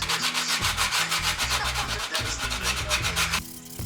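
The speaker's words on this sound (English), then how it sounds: "The next step is sanding" Rapid back-and-forth strokes of 60-grit sandpaper rasp across a wooden knife sheath in a quick, even rhythm, with steady tonal music playing underneath.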